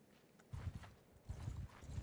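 Horse hooves clip-clopping at a walk in the medieval combat game Mount & Blade II Bannerlord, two clear bursts of soft, close hoofbeats over a quiet background.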